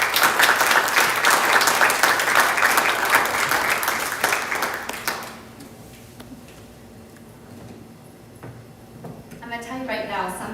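An audience at an awards ceremony applauds Girl Scout Gold Award recipients with loud, full clapping for about five seconds, then it fades to quiet room sound and a voice begins speaking.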